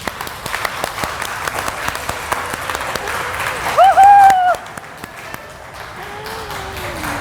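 Church class audience applauding across the whole stretch, a dense patter of many hands with scattered sharp claps, while a voice speaks and sings briefly over it around the middle.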